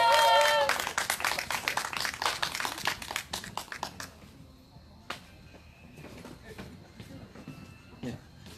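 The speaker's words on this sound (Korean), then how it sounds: "다시 한 번 더 우리 너가봐의 달인 김경철님께 큰 박수 부탁드리겠습니다" Audience claps for Kim Kyung-chul at an outdoor candlelight gathering in Seongju: a loud burst of applause that thins into scattered claps and fades over several seconds.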